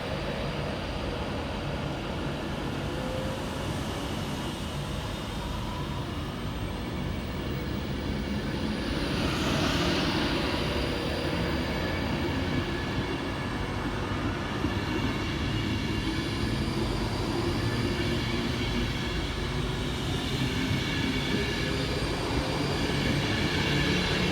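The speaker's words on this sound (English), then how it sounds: "next out to depart 9 minutes late is 390-006, working the 12:10 Avanti West Coast service from London Euston through to Manchester Piccadilly" An Avanti West Coast Class 390 electric train pulls out of Nuneaton station, a steady, loud rolling rumble and wheel noise that holds throughout with a faint rising whine, no voices.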